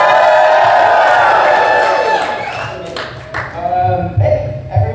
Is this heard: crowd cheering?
yes